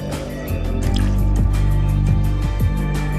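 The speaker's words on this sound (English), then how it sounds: "When the magician fills the glass with water, he must be careful to keep this hole covered." Water poured into a drinking glass for a magic trick, a close, continuous gurgling fill with small bubbling splashes throughout; no talking.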